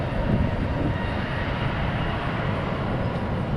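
An American Airlines jet takes off at Dallas/Fort Worth International Airport, its engines giving a steady, loud broadband roar that holds level for the whole few seconds with no voices.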